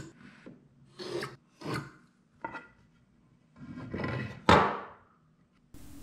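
A marking gauge scribing lines around a wooden tenon piece, a series of short dry scratching strokes against the wood with small pauses between them, close and quiet with no talk.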